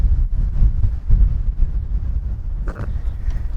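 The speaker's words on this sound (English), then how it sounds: "I hope it's not too windy for you guys." Low, rumbling wind buffets the microphone continuously, loud and gusty, with a brief faint rustle near the end.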